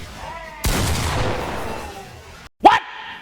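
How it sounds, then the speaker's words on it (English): Blasts from a shotgun in a fighting video game with rollback netcode: a long roaring boom of about two seconds, then a short sharp crack after a brief gap, loud and close. "Shotgun!"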